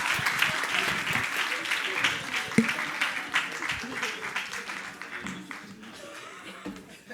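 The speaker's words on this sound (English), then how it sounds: "Can we give them another round of applause?" Audience applause at a panel discussion on gendered influence in power and decision-making, a steady wash of clapping that gradually thins and fades, with some voices mixed in.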